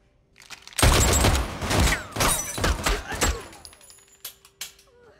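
A rapid fusillade of gunshots fired point-blank at Shazam during a robbery, loud bursts crowding together in a dense volley for about three seconds before tapering into scattered clatter and a few fading echoes.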